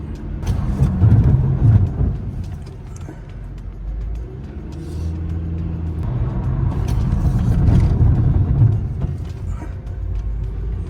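Honda Civic being driven through repeated hard-braking cycles to bed in new brake pads and rotors, heard from inside as a steady low road and engine rumble that swells and eases over several seconds.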